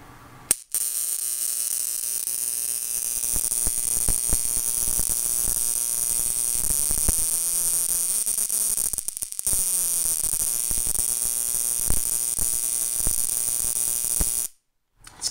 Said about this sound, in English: Giving a pretty healthy spark.